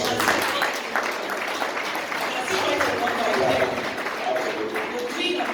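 Dense audience applause for young entrepreneurs at a talk event, a steady wash of many hands clapping at moderate loudness throughout, with voices mixed in beneath it.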